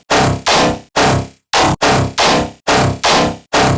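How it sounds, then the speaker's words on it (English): Processed dubstep main bass patch from the Serum synth, loud, gritty growling notes in a choppy rhythm of about nine bursts with short gaps, heavy and alone. "So the main bass on itself sounds like this."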